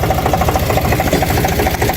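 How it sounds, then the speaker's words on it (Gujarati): A farm tractor idles just after starting, a loud close engine chugging in a steady rapid low rhythm with a faint mechanical rattle on top, no voices. "ટ્રેક્ટર કરી દીધું ચાલુ."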